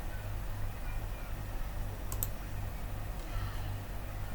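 Soft, sparse clicks from a computer mouse and keyboard at a desk during a pattern-drafting CAD session, quiet and close over a low steady hum.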